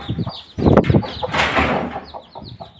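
A mother hen clucks in short, throaty bursts nearby, with a few higher chirps from her brood of about twenty chicks around it.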